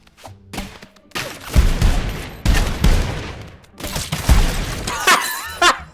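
Video game gunfire from Rounds comes in loud rapid bursts of shots and impacts, separated by brief pauses, with faint voices now and then.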